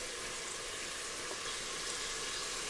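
About four slices of bacon sizzle in a pan, a continuous close-up crackling hiss that holds steady and stands alone without any talking.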